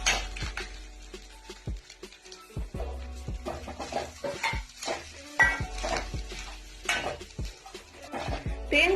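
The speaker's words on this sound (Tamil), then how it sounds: "இப்ப நம்ம ஒரு துருவுன தேங்காவை சேர்த்து வறுத்துக்கலாம்." Grated coconut roasts in a pan with golden-fried cashews and almonds for sweet somas, a spoon scraping and clattering in irregular bursts over a faint dry sizzle, close up and without speech.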